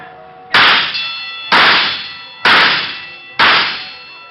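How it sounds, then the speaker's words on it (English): Four loud metallic clangs at a carnival midway shooting gallery, evenly spaced about a second apart, each ringing bell-like and slowly decaying, with no talk. "we stopped at the shooting gallery"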